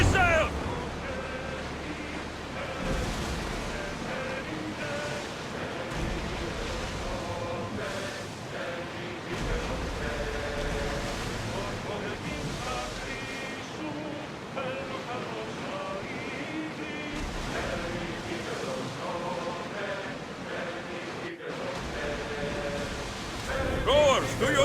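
A ship rows through rushing ocean waves in Assassin's Creed Odyssey, with a continuous wash of surf and wind under voices and a musical score for the whole stretch.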